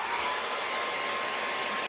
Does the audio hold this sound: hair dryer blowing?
yes